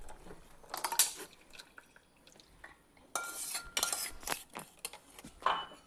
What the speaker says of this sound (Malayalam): തേങ്ങാപ്പാൽ ഒഴിക്കാം.